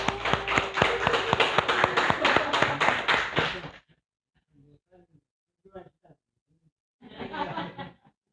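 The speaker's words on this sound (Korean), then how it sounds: "한번 박수로 환영하겠습니다." Church congregation at a Sunday service claps in welcome for a visiting elder, loud, brisk applause for about four seconds that stops abruptly, followed by scattered quiet sounds and a short burst of light laughter.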